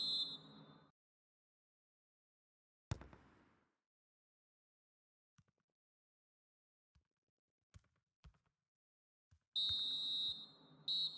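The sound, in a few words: referee's final whistle in FIFA video game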